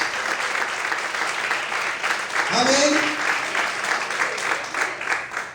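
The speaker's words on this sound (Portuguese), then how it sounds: "Você pode aplaudir ao Senhor por isso." A church congregation applauds the Lord during a sermon, a broad, sustained wash of clapping with a voice rising briefly over it.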